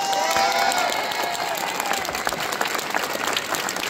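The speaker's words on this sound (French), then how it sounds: "Je pense que ça mérite Geek Life un tonnerre d'applaudissements" A thunderous round of applause from a convention audience at a Simpsons talk, dense continuous clapping with some cheering mixed in, holding steady from start to finish.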